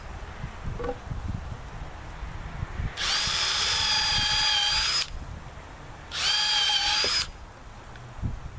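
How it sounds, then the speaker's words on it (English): A power drill with a 1/4 inch bit bores holes through a metal T-post outdoors, two distinct high whining bursts of about two seconds and one second with quiet background between. "I'm using a 1/4 inch drill bit, and this is for the wires."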